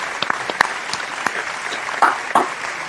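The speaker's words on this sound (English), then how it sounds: "Another round of applause." A small audience claps for a bass-player interview, giving scattered, fairly thin applause with a few louder individual claps, close and brief.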